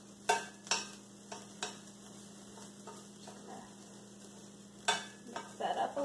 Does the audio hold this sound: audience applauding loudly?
no